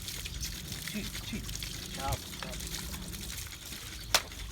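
Pressurised water sprays steadily onto cattle while they are bathed, and one animal kicks against the spray. People talk over the rushing water.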